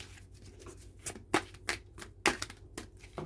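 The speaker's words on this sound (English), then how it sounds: "Sorry, if there's too much shuffling, do forward it." Tarot cards are shuffled by hand in a series of close, crisp riffling flicks and slaps, some louder than others, with no talking.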